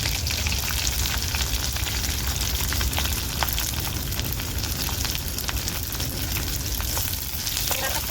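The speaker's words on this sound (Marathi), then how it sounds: "कांद्याला मी लाल तर परतून घेणार आहे" Sliced onion and three finely cut green chillies fry in a pan with a steady, close, dense sizzle that stays loud and even throughout, with no talking.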